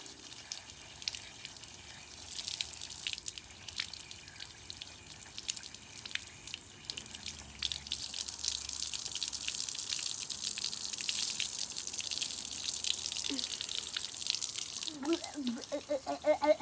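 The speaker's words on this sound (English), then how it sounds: "I'm gonna keep on rinsing off this." Water streams and drips steadily while a dirty vacuum cleaner filter is rinsed, with faint splashing throughout and a few squelchy bursts near the end.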